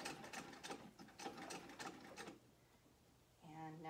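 A Singer Model 66 sewing machine stitching with its hand wheel turned, making a rapid rhythmic mechanical clatter of needle and gears in close bursts, then going quieter before a low motor-like hum at the end.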